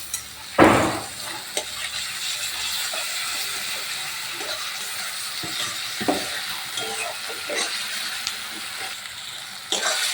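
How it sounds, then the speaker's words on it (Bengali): Onion with ginger-garlic paste sizzles in a pan for a prawn and banana-flower chop, with a loud opening clatter as the paste goes in, then steady frying hiss and scattered scrapes of a spoon stirring, no voices. "আদা রসুন পেঁয়াজ সুন্দর করে ভাজা হয়ে গেছে"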